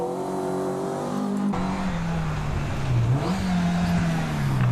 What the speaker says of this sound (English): This looks like a Nissan Pulsar, is it? This will be a front wheel drive, but a bigger car than the others.